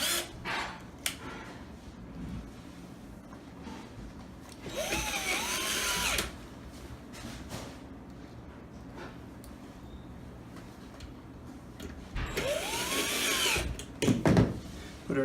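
Two short whirring bursts of a power screwdriver driving screws while installing an APC3000 UPS unit, several seconds apart, over a quiet background with faint clicks and handling noise.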